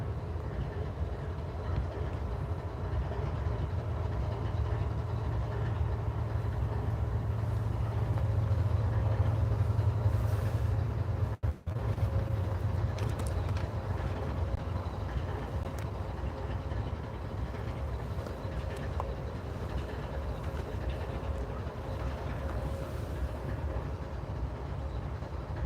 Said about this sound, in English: That lead locomotive is CSX locomotive number 829.